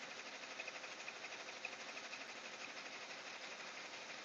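A sewing machine top-stitching the edge of a pinned pillow runs at a steady, fast mechanical hum and buzz, fairly quiet and continuous throughout, with no voices.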